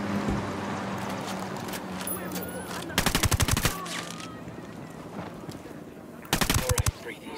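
Two short bursts of rapid automatic gunfire ring out in the Ghost Recon Wildlands shooter, loud rattling volleys over a murmuring outdoor ambience.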